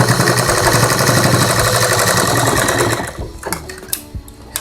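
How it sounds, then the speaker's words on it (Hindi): A sewing machine stitches fabric for a flower latkan, running in a fast, loud, steady whir for about three seconds before slowing into a few uneven bursts and stopping. "रख के इस पे हम सिलाई चलाएंगे।"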